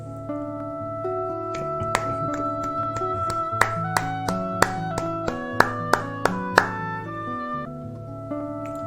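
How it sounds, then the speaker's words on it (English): Hand claps in a steady triplet pattern ring out crisply over a song playing underneath, each sharp clap standing out above the music. "let's play the song and let's just clap triplets over the song."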